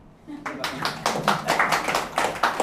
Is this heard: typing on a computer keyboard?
no